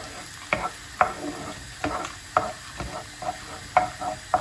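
Meat and peppers sautéing in a pan for Turkish orman kebabı, soft sizzle with regular scraping stirs about every half second, close and alone.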